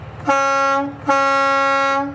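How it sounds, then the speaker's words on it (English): Two loud, sustained blasts from a 2023 Renegade Verona LE motorhome's air horns, each about three-quarters of a second long with a short gap between, rich and brassy. "Cool air horns."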